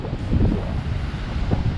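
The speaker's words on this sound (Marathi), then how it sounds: "पावसामुळे आणि वादळामुळे समुद्र खूप खवळलेला असल्याकारणाने" Strong wind buffets the microphone over the rumble of a rough, stormy sea breaking at Achra beach in the rain. The noise is a steady, close roar with gusty swells and no talk.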